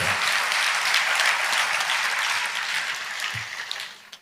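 A church congregation breaks into applause during a sermon, a broad wash of many hands clapping that holds steady, then thins and fades out toward the end with a few scattered claps.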